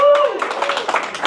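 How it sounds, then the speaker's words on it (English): Scattered applause from a comedy club audience comes in short, uneven bursts after a brief voice at the start. "Y'all can clap for that."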